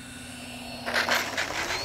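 An E-flite A-10 Thunderbolt II RC jet with 64mm electric ducted fans comes in to land, its faint whine rising into a louder, rushing pass partway through, heard from a distance outdoors.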